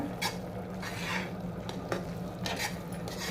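Hayagreeva sweet being mixed in a pan with cashews and raisins, a series of scraping spoon strokes over a soft sizzle, close and fairly quiet.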